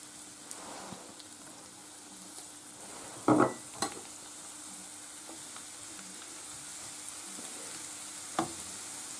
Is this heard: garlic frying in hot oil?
yes